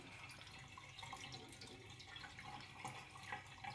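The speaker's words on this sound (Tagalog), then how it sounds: "Tinatanggal na namin ang tubig." Dirty aquarium water drains through a hose into a kitchen sink, a quiet, continuous trickling and splashing with small drips, heard alone.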